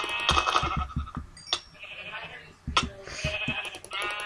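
Sheep in the Minecraft video game bleat several times, clear, synthetic-sounding calls standing out alone in the foreground with brief gaps between them.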